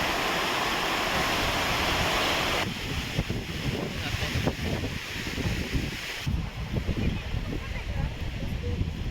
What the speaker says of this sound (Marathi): पाण्याचा प्रवाह पण खूप आहे